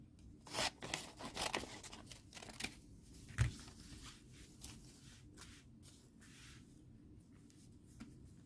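Paper being cut and handled at a desk while making a collage over Bristol board, with scattered soft snips, rustles and crinkles, louder bursts near the start and one sharper snip midway, no talking.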